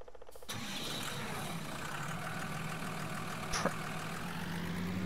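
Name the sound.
Hurleman 165 hp tractor engine starting, from a video game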